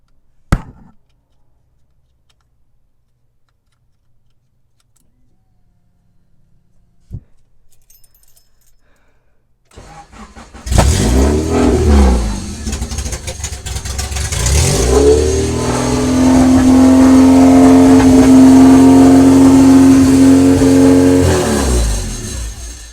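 A Honda Civic with a JDM H22A engine swap and direct coils sits silent, a couple of faint clicks sound, then it fires up loudly, idling rough before revving into a steady, high, sustained roar close by.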